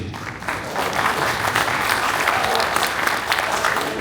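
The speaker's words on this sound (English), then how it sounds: "Please, round of applause for our President Hemant Patel." Sustained, loud crowd applause at an Indian community association's patriotic celebration, a thick continuous wash of clapping from many hands with no break.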